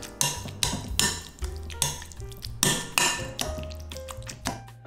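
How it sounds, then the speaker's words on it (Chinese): Steamed pumpkin being mashed into a purée in a bowl with a hand tool, heard as a run of close, sharp clinks and knocks against the bowl, each landing about half a second apart. "南瓜放在一个碗中，取来一个工具，把南瓜捣成泥"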